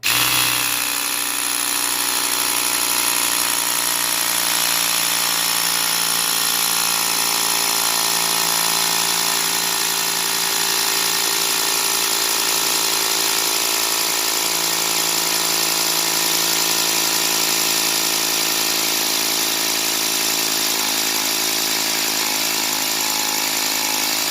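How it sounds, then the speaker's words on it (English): An air pump fills an air cannon to 90 psi, a loud, steady droning motor whine that runs unbroken from start to finish with no talking. "Start the pump."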